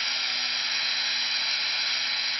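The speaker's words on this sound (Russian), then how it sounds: "Нам надо просто просверлить толщину лапки" Steady high-pitched whine of a drill boring through a scooter's kick-starter lever to fit a key, running continuously and close up with no pauses and no talk.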